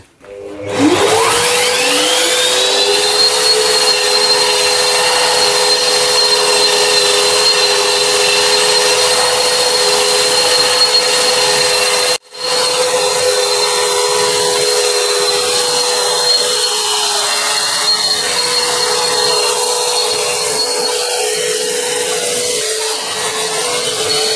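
A power sander with vacuum dust extraction sands wooden wall paneling, whirring loudly and steadily with a vacuum-like drone, briefly cutting out partway and then resuming at the same level.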